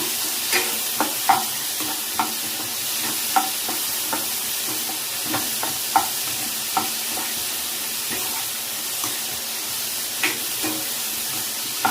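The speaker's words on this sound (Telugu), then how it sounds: "ఇది టమాటా ఆనియన్ బాగా మెత్తగా ఫ్రై అవ్వాలండి" Chopped tomato and onion frying in a pan for chicken fry piece biryani, a continuous close sizzle broken by regular scraping stirs with a spatula, no voices.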